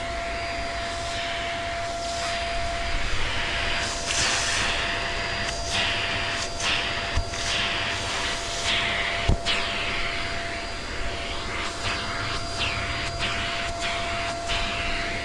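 A steady, loud vacuum motor whine with a constant high tone, broken by occasional sharp clicks and thumps as bees and bits of a tree hive are sucked into the hose.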